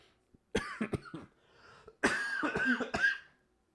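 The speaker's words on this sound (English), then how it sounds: "I am so sick of this cough." A person coughs, up close and fairly quiet, in two short fits of harsh, throaty bursts with a pause between them and some throat clearing.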